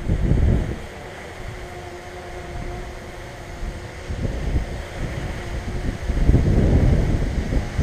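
Strong wind gusts buffet the microphone while a DJI Mavic 2 Pro drone flies, a heavy low rumble that surges loud at the start, eases, then builds again to a strong roaring gust near the end, with a faint steady tone underneath.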